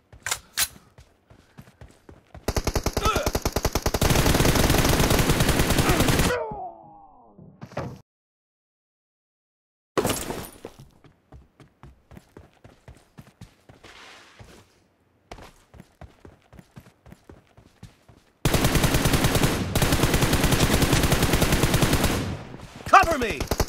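M416 rifle gunfire in a shooter video game, with sharp rapid automatic bursts separated by quiet gaps and single shots, loud and close, plus a few game sound effects between them.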